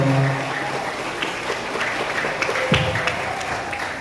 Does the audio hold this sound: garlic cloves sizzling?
no